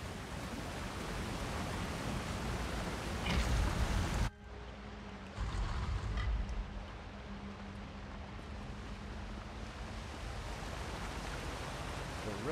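A waterfall rushes in the Elder Scrolls Online video game, a steady broad roar that dips briefly after a cut, then continues under quiet game sounds.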